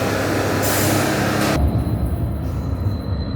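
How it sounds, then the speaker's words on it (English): A commuter train pulls into a station stop, its rail wheels rumbling loud and close with a burst of hissing air brake release partway through, steady and continuous without talk. "Here comes our train."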